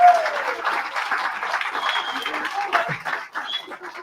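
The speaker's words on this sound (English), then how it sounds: "Are you clapping for the therapist comment?" Live audience clapping at a motivational training session, a scattered burst of applause with some whoops and voices mixed in, fairly close and steady across the moment.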